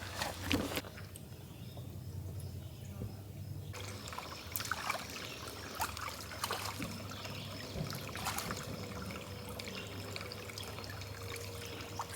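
Water trickles and splashes at an off-grid homestead where mud and rain water are used for washing up, a faint, steady run of liquid with scattered small splashes and knocks, heard alone without talk.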